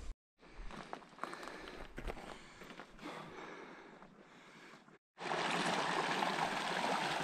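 Mountain stream serving as a water source along the Pacific Crest Trail, a steady broadband rush of flowing water heard close by, loudest in the final two seconds, with footsteps and wind noise earlier.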